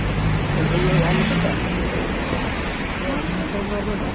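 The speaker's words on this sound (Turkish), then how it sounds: "Trafik ne ya o kadar?" Road traffic noise on a busy street, a dense continuous roar and wash of passing vehicles heard close by, fairly loud and steady throughout.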